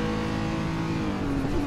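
A Renault R.S. 01 race car in the Assetto Corsa video game at the Nürburgring, its engine droning steadily with a rising, revving tone, close and continuous with no talk.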